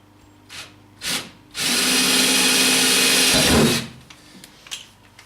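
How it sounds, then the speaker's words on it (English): A power drill bores a hole through the wall of a truck bed, heard as one loud, close, sustained whine of about two seconds, preceded by a couple of short taps and followed by faint clatter. "Be careful that you don't drill too deep and hit the other side of the cab."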